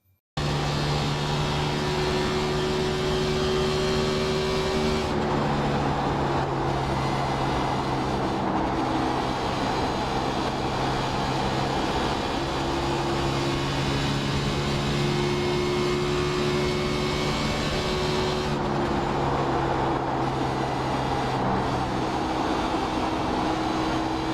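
An iRacing race car engine drones steadily through a lap at Kansas Speedway, holding a constant loud roar with slight pitch shifts as it runs around the oval, alone and without talk.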